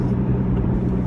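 Interior engine and road rumble of a 2013 Roush RS cruising at about 40, a loud steady low drone filling a brief moment with no pauses.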